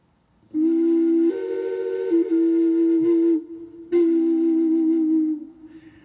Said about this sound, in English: So this instrument is a triple flute. This flute is made out of clay.